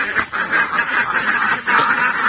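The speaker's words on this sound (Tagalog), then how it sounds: "yung mga itik namin." Ducks at a duck farm quacking loudly and close during feeding time, a dense run of overlapping nasal quacks with no talking.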